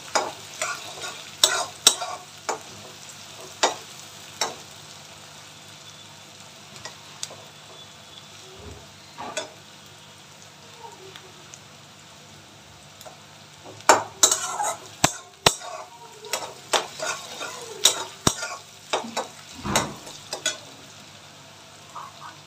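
Onion frying in ghee with green chillies, stirred with a utensil in a pan, giving a soft continuous sizzle broken by repeated sharp scrapes and clinks of metal against the pan.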